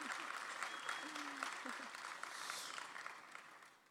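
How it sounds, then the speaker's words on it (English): A conference keynote audience at DrupalCon Baltimore 2017 applauds with sustained, even clapping that fades toward the end, while a voice speaks faintly underneath. "So yes, you can go ahead and clap for our sponsors."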